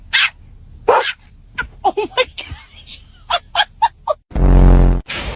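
A chihuahua and a rottweiler bark in a string of sharp, separate yaps and woofs close by, ending with a loud sustained growl-like rumble.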